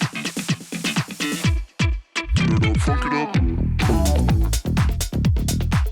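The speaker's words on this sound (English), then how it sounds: "Then there's this crash," A bright crash cymbal sample washes over a dense, loud electronic funk track thick with punchy drums and bass, the splash flaring into the full mix partway through, with no voices.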